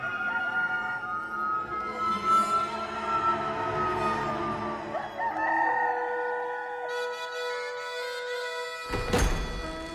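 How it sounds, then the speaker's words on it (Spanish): A rooster crows at length, fairly clear and near, over a faint backdrop with a soft thump near the end. "Y al instante cantó un gallo."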